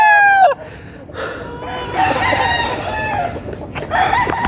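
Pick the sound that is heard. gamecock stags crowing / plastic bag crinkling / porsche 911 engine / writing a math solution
gamecock stags crowing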